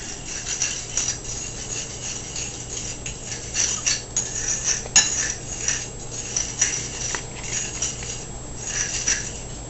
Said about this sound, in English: Now let's just stir that into the flour.